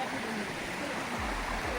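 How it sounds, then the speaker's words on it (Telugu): A waterfall near Kondapalli outside Vijayawada produces a steady, broad rushing roar of falling water that stays constant throughout, heard close and fairly loud. "కొండపల్లికి సంబంధించిన వాటర్ ఫాల్ చూడండి."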